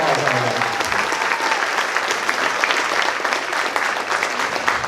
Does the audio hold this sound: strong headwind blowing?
no